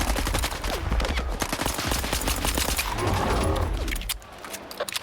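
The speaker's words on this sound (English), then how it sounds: "So you gotta shoot it in its butt foot." Gunfire in the video game S.T.A.L.K.E.R. 2: Heart of Chornobyl, rapid loud bursts of automatic shots in a near-continuous stream that cuts off toward the end.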